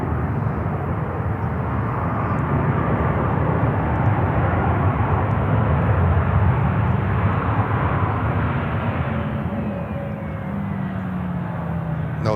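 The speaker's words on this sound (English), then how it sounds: "That's American Airlines, a 321." An American Airlines Airbus A321 takes off at Charlotte airport with a sustained, heavy jet engine roar that swells and holds, then eases slightly near the end, heard from a distance outdoors.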